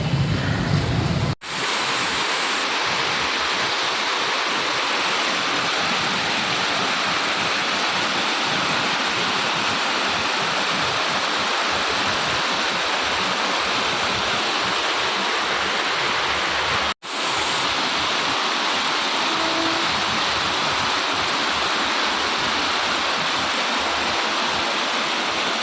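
Water rushing steadily through an open drain in front of a house, a loud, continuous broadband roar with no talk, broken only by two very brief dropouts.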